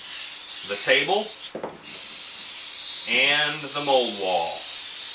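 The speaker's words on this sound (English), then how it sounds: "I'm going to go ahead and mold release with the cooking spray" Cooking spray is sprayed as mold release onto a wooden base and mold wall while making a two-part mold: a single short aerosol hiss between stretches of close talk.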